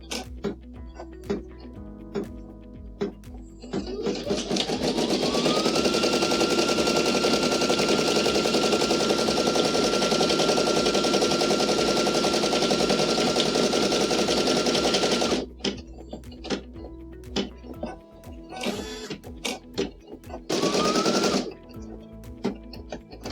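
A Brother SE1900 embroidery machine stitches a design onto a baby onesie. It runs as a loud, fast, steady mechanical buzz for about ten seconds, stops, then makes a short second burst.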